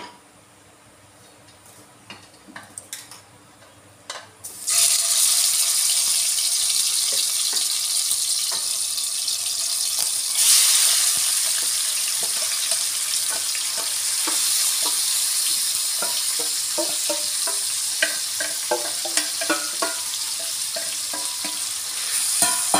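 Chicken hits a hot pan of whole spices like cardamom, cloves and shahi jeera, breaking into a loud steady sizzle that carries on with stirring scrapes and clatter, after a quieter start.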